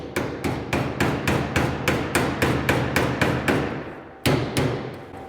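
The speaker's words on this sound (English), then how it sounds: "If I hammer that right up into that, look at that slice." Rapid, regular hammer blows ring out on a metal body panel of a custom VW build, about a dozen evenly spaced strikes, loud and close, with a brief pause before a final few.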